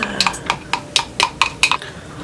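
A utensil taps and scrapes inside a bowl while deep conditioner and protein hair mask are mixed together. About eight quick, sharp clinks come in an uneven rhythm, close up.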